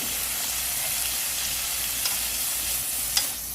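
Sweet potato stems sizzling and being stir-fried in a pan, a loud, steady hiss close up with light scraping stirs and no talking.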